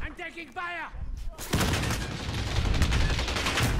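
In Call of Duty: Modern Warfare Warzone, a player's voice gives way to dense, loud, continuous gunfire that fills the rest of the clip.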